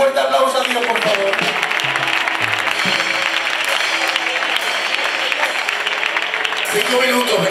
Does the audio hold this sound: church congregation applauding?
yes